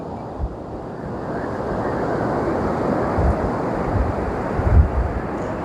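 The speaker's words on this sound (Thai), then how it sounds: "เป็นทะเลที่ คลื่นแรง เป็นทะเลที่เล่น จะเล่นน้ำก็ต้องระวังราะว่ามันขึ้นแรงมากๆเลย" Strong sea waves crash and surge onto the beach at Santa María del Mar in Santo Domingo, a loud, steady wash of surf with wind buffeting the microphone and a few heavier thumps.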